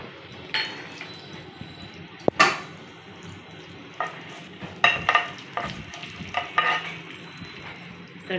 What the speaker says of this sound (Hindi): सरसों के दाने हमारे थोड़े से चटक जाने चाहिए,